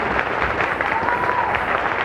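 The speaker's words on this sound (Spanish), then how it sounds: "Un aplauso." A studio audience applauds in a steady, dense burst of clapping that holds at an even level for the whole moment.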